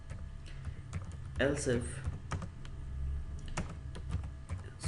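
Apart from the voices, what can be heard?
typing on a computer keyboard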